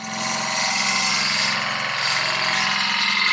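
A woodturning lathe spins steadily while a gouge is pushed into the wood, giving a loud, continuous droning hum with a rough cutting texture.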